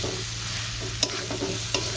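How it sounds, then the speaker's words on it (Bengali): Jackfruit and potato stir-fried with spices in a pan, a steady close sizzle with a couple of sharp spatula scrapes and clinks near one and three-quarter seconds, no voices. "এঁচোড় আলুটা দিয়ে মশলার সঙ্গে একসঙ্গে খুব ভালো করে কষিয়ে নেব।"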